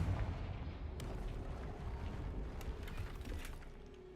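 Explosive spell blasts in the Hogwarts Legacy video game, a steady rumbling roar with a few sharp cracks on top, loud and continuous throughout.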